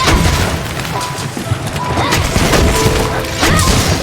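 A loud, sustained burst of explosive blasts from a Charge Blade air dash in Monster Hunter, booming and crackling continuously over a few seconds with dense clutter of impacts.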